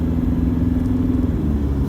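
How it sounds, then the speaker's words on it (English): Steady, low diesel rumble from a 2014 Toyota Hilux on the move at around 2000 revs, with an even hum and no talking. "Clean engine power and combustion"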